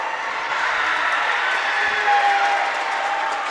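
A crowd at a high school volleyball match keeps up a broad, steady roar of cheering and chatter that fills the gym, with no distinct claps or peaks.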